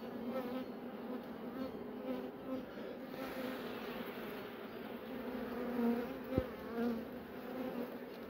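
Honeybees move about inside a queenless hive, giving off a soft, steady buzzing hum that swells a little at moments, with one brief knock near the end.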